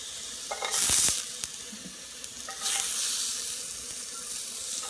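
Low-fat kebabs sizzling in a pan on a stovetop, a steady close frying hiss with brief louder spurts of spattering.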